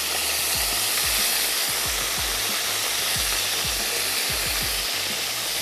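Thin chicken strips frying together in a pan, a dense steady sizzle with hiss throughout, broken by scraping and stirring knocks from below.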